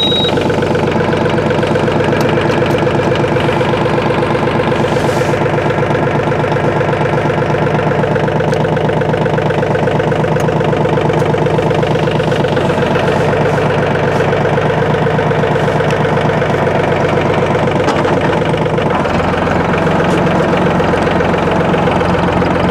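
A Mahindra OJA 2127 compact tractor engine runs at a loud, close, steady diesel idle with a rhythmic knocking chug, the tone dropping slightly near the end.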